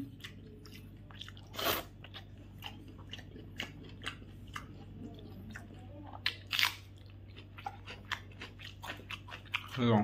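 Crunchy bites and chewing of stale roti eaten with raw banana, a few loud crisp crunches standing out over a steady low hum, close to the mic, with no talking.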